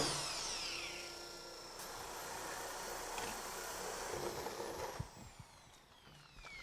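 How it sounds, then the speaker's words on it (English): A power drill boring holes in a vanity top whines steadily up close, its pitch sliding through the hard material, then slows and stops with a few clunks. "I'm drilling 2 more 8-inch centers for our hot and cold water valves"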